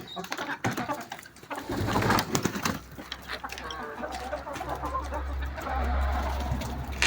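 Ispenc hens cluck and chatter continuously at close range, with scattered rustling and a low background rumble.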